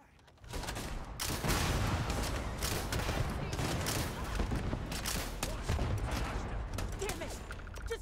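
Heavy, sustained gunfire fills a Starfield firefight, a dense crackling barrage of rapid shots that starts abruptly and carries on loudly with little pause, while voices speak faintly underneath.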